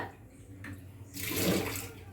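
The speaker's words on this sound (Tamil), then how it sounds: "இப்போ நான் ஒரு பானலியில் நான் இதில் 2 டம்ளர் தண்ணி ஊற்றிக்கிறேங்க" Two tumblers of water poured into a pan make a short gushing splash that swells and fades, close and moderately loud.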